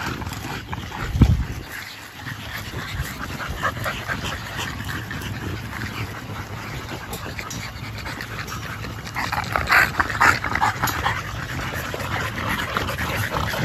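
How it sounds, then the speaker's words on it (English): Dogs outdoors on a hot day pant steadily and whimper faintly, with a few short yips, fairly close with no talking. "I'm going to give y'all some footage of these dogs."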